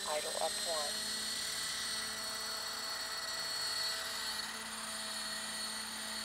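A Roban EC130 800-size scale RC helicopter flying at a 1200 head speed, its rotor holding a steady high whine with a tonal buzz, continuous and fairly close. A brief voice is heard near the start.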